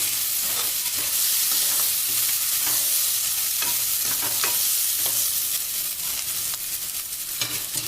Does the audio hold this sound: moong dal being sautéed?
yes